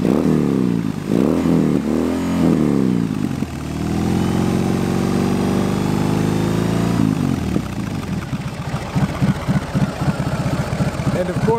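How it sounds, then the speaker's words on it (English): A BMW R 18 big boxer-twin motorcycle engine idles with a deep exhaust note, rises through a couple of revs, then settles into a loud, steady lumpy throb close to the bike. "let's see how this new one sounds. Get a little bit of a whir, nice deep sound from the pipes"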